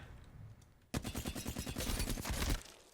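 A rapid automatic burst from a Reactive Flatline assault rifle in the Apex Legends battle royale game opens abruptly after a quiet second, with dense, loud, evenly spaced shots for about a second and a half, then stops.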